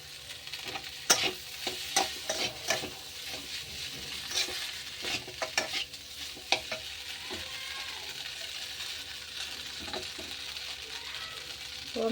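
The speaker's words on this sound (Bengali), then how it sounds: "তো আমি এক এক করে সব চাউমিন ঢেলে দিলাম" Chow mein noodles tipped into cooked vegetables in a frying pan, with a steady sizzle, sharp clattering stirs and scrapes coming in irregular bursts, close and moderately loud.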